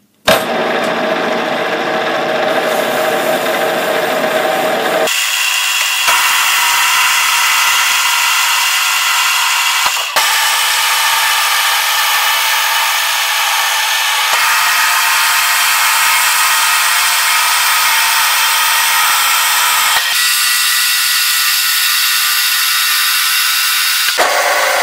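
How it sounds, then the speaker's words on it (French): A milling machine with a 15 mm cutter cuts grooves into a metal holder prototype, producing a loud, steady high whine broken into several long passes with abrupt shifts in tone between them. "Je vais faire 3 rainures avec une fraise de 15."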